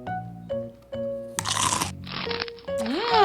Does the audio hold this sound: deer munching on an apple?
yes